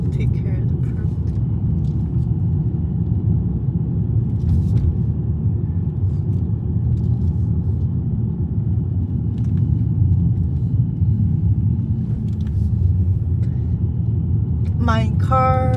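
A car driving along a road past green hillsides in San Diego County, a steady close engine and road rumble running throughout with no pauses, joined by a brief higher whine near the end.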